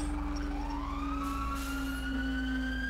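Fire engine siren in the video game EmergeNYC, a loud wailing tone rising steadily in pitch over a low engine rumble, close and continuous.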